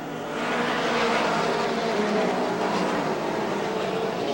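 Stock cars roar together at the green flag start of the 1992 ARTGO 300 at Rockford Speedway, a loud continuous broadband engine wash building in the first half second and holding steady with no talk.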